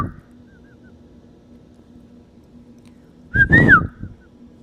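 A faint, high chirp from an emu chick still inside its egg sounds at the start, then a louder, rising and falling whistling peep comes near the end over a low background hum.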